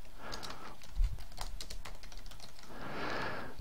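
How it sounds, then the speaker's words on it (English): Typing on a computer keyboard, a quick run of close, light key clicks in an uneven rhythm with one heavier tap, over a soft background hiss. "So just double click and just put in some text."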